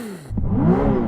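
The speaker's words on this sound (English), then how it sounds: "I'm going to rev up this car." A sports car engine revving in a brief pre-race sound check: after a short lull, the engine note climbs sharply in one quick, loud, near rev that rises in pitch and holds.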